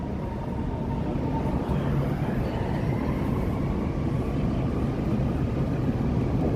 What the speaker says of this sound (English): Here comes the L train.